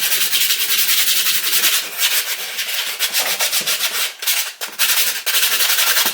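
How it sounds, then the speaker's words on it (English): Sandpaper rubs back and forth over plastic VW T4 door handle trim, a loud close scratchy rasp in rapid even strokes with brief pauses, no talking. "So what we need to do is key these with sandpaper."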